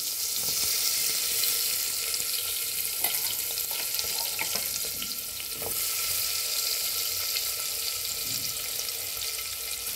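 Onion hits hot oil with turmeric in a pan, giving a dense, continuous hiss and sizzle throughout, close and loud, with a few faint clicks and scrapes underneath and no speech.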